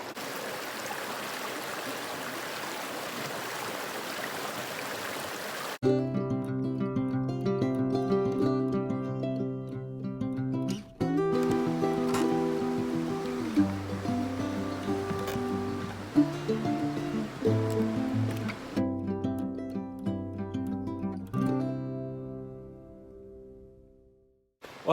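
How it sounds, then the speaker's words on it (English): Steady rushing of flowing creek water on the Pacific Crest Trail fills the first few seconds, then instrumental music takes over and carries on to the end. "Now right by here, the river, it's not bad."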